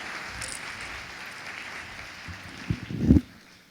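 A comedy club audience welcomes a comedian to the stage with soft, steady applause that sounds distant, followed by a few heavier thumps near the end.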